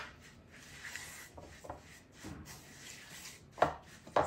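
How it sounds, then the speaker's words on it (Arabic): Sugar is worked into butter in a bowl, producing quiet gritty rubbing and scraping strokes with a few sharper knocks near the end. "غادي نخلط السكر مع الزبده"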